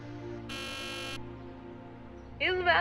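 Electronic buzzer from a Back to the Future game, a harsh steady buzz lasting under a second over a background hum, followed by a brief sweeping tone.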